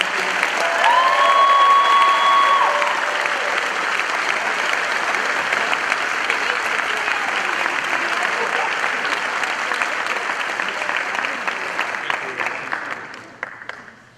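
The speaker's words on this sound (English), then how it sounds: "One more round of applause for all of our recipients." Sustained crowd applause for award recipients at a high school senior awards night for the Melrose High School Class of 2025, loud and steady throughout before thinning out and fading over the last couple of seconds.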